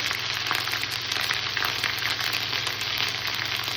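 Ginger, cumin leaves and coriander leaves sizzle and crackle loudly in a hot pan as they are stirred, a dense, steady frying hiss close up with no voices.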